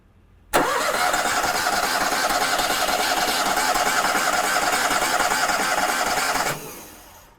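An Onan generator on a Luxe 42 MD engine starts abruptly and runs at a steady, loud roar for several seconds, then cuts off and fades away. No one speaks.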